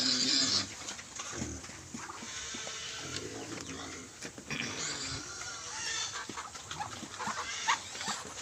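Native pigs feed on commercial pellets mixed with corn bran, grunting and snuffling close by with messy chewing. Chickens and other farm noises sound in the background.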